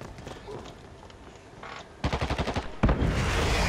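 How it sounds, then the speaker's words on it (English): Gunfire from the online shooter Dirty Bomb: a burst of rapid automatic shots, then a louder blast and rumbling fire, over game background noise. "Somebody shot."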